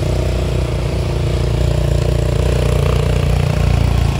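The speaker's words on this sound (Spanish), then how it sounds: "Por eso trae esta moto que es más fuerte" A motorcycle engine runs steadily at idle on a street, a loud continuous low rumble with even throbbing and no voices.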